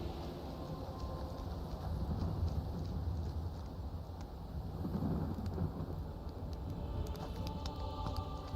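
Steady rain in Skyrim fills the whole stretch as a dense, constant hiss, with low rumbling swells near the middle and a few sharper patters toward the end, no voices.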